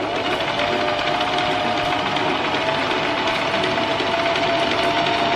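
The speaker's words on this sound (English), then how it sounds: "let's start sewing this bad boy" A sewing machine stitches patchwork fabric for a homemade top, running in one steady, continuous mechanical whir and rapid needle chatter, close and loud with no pauses.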